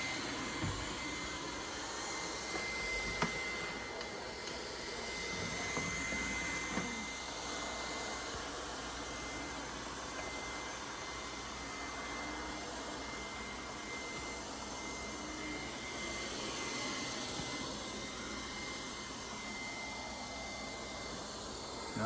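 Lefant M201 robot vacuum cleaner running: a continuous steady whirring hum with faint tonal whine, held evenly for over twenty seconds with no talking.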